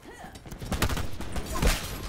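Rifle bursts rattle out in a Black Ops 4 match, a double-grip M16 firing several short, punchy volleys close up over about two seconds, with no speech.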